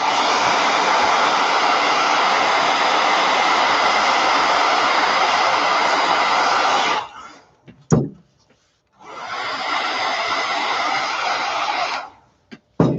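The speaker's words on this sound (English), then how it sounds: "I'm going to hit it with the blow dryer just really quick" A handheld blow dryer blasts a paper stamping craft with a loud, steady close whoosh, cuts off with a few handling knocks, then runs again before stopping.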